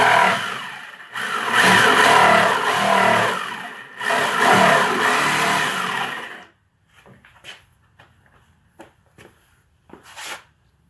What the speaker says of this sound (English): the jigsaw worked. Managed to cut out a circle